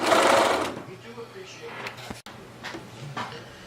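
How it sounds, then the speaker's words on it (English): Short burst of a sewing machine joining sleeve pieces, loudest at the start and fading quickly, followed by quiet handling clicks and faint background hum. "I am going to sew them together and then serge my sleeves"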